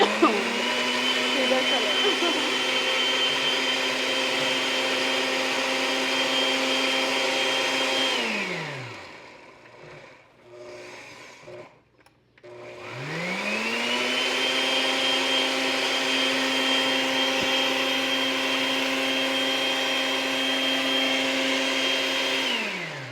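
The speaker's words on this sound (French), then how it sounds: "on va le mixer très bien" A blender purrs at high speed mixing a red chili preparation, a loud steady motor tone that winds down, stops briefly with some clatter, then spins back up and runs on continuously.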